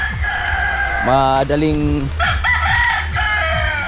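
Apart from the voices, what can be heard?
chickens clucking and rooster crowing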